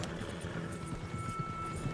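Horses trotting in a video game, with a steady, close clip-clop of hooves running through the whole stretch over a constant game background hum.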